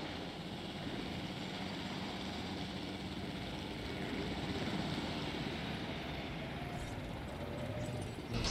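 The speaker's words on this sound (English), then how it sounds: "That's the helicopter." A helicopter in the Jurassic World Evolution video game gives a steady, even rotor and engine drone that runs without a break at moderate level, with no talk.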